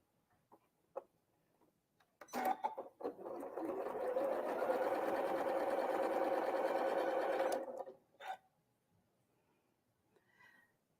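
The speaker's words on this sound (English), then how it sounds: "I'm going to sew these together" A sewing machine stitches quilt fabric triangles together in one steady, whirring run of several seconds, with a few faint clicks and handling noises before and after.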